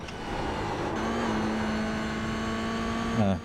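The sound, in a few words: race car braking and downshifting two gears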